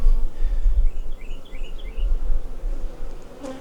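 Honey bees hum around an open hive in a farm yard on a hot day, a steady low buzz close by with individual bees droning past now and then, and no voices.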